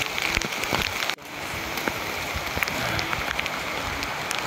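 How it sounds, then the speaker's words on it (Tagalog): Heavy rain pours steadily outdoors as a dense, close, continuous patter with scattered louder drops, and no one speaks. "lakas ng ulan"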